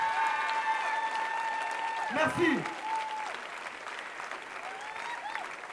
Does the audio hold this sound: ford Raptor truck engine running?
no